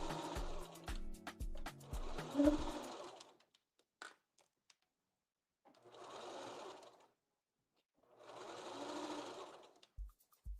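A sewing machine stitches a 1/2 inch seam allowance on a cold-weather hat, scarf or mitten project, running in three bursts with pauses between them, starting close and fairly loud amid some handling clatter.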